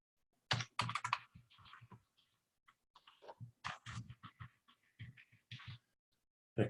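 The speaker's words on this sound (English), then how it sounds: "I can just use that to type in the scores for each contestant." Fingers typing scores into a spreadsheet on a computer keyboard, close and clear, in quick clustered bursts of keystrokes separated by short pauses.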